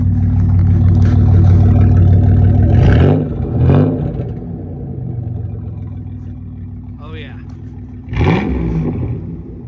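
Engine of a car running without a muffler revs loudly up and down in two or three surges, with a rough, throaty roar close by, while a voice talks over part of it.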